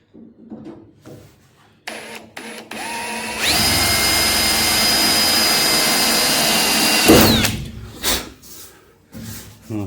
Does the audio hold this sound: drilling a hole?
yes